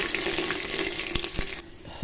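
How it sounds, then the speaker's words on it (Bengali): Onions for a vegetarian khichuri fry in a pan with a soft, steady hiss, broken by a few sharp clicks of stirring before the sizzle drops away near the end. "একটু ভেজে নেবো পেঁয়াজটাকে হালকা"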